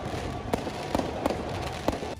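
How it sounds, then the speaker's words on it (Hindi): Fireworks explode during a late-night street celebration of a win, with several sharp bangs spaced across a loud, continuous crowd-noise background. "इस दौरान जमकर आतिशबाजी भी की गई।"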